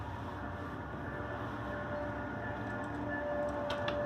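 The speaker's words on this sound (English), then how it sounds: "Oh, train's coming." Passing train heard from indoors during a workbench model locomotive rebuild, a faint steady rumble with a thin whistle-like tone and light clicking toward the end.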